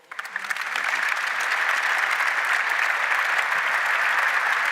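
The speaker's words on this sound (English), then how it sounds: "Applause, people." An audience applauds at the opening of Rotterdam's architecture month, a steady, dense wash of clapping that builds quickly and holds at full strength to the end, with no talk over it.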